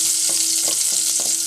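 Onion sizzles steadily in hot oil in a pot while it is stirred, a constant hiss with soft scraping strokes about three times a second, close and with no talking.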